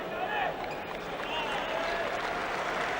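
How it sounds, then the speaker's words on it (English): Steady crowd applause fills an arena during the 1991 EuroBasket semi-final between France and Yugoslavia, sustained and fairly even, with a commentator talking over it. "Applause from the crowd"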